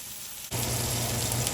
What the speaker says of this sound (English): This is going to be a nice searing, people.